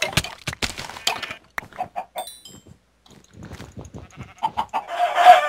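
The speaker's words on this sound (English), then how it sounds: "there's heaps of chickens over here too" Chickens cluck in the video game Minecraft, a series of short, close clucks coming in bursts, with a few higher chirps and a denser flurry near the end.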